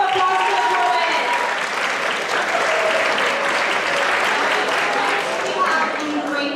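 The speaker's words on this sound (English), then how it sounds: "Everyone give a round of applause for the poet." A dense, steady round of applause from an audience at a school spoken-word poetry finals, loud and sustained throughout without letting up, with a few faint voices mixed in.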